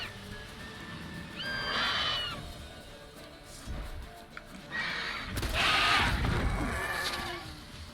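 A horse in The Witcher 3 gives two loud whinnies, one brief and one longer and louder, against a steady game ambience with faint hoof and movement sounds.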